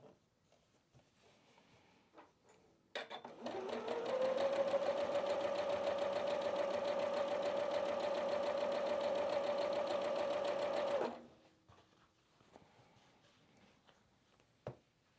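A sewing machine runs a steady burst of straight-line stitching on a quilted snowman project, its rapid even whir lasting about eight seconds before stopping, close and clear against a quiet room.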